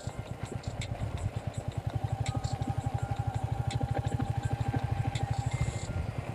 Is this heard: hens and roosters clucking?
no